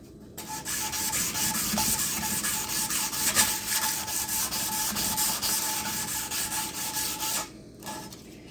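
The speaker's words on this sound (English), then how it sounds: "Alright, well, let's continue sanding this." Steady, close rasping of sandpaper worked back and forth over a custom wooden axe handle during polishing, continuous for about seven seconds before stopping abruptly, with no talk.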